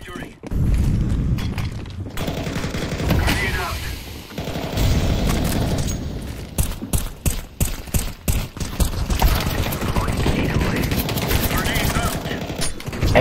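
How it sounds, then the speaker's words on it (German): Gunfire rattles through a Counter-Strike: Global Offensive match in rapid bursts and single cracks, close and loud, mixed with game noise and someone talking over it. "Kann der aufhören, auf mich zu schießen?"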